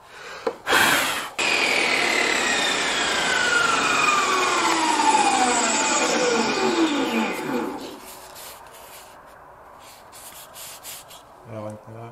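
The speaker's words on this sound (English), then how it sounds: "I'm gonna try to rip some 1/2 inch pieces of wood" A table saw ripping half-inch strips of wood for shelf brackets: a sharp start, then a long loud whining cut with a falling pitch as the blade spins down, ending in quieter shop noise.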